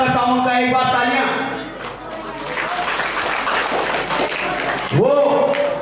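Audience applause at an outdoor village Ramleela stage drama performance, a loud sustained wash of clapping after a brief stretch of amplified talk, with a voice speaking again near the end.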